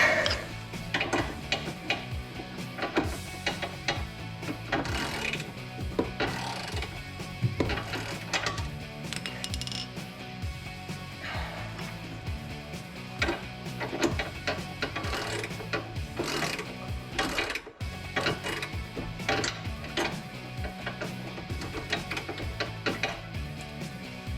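A hand socket tool works a bumper bolt on a Jeep Gladiator JT, giving rapid ratcheting clicks and metallic clatter in repeated bursts, close and fairly loud.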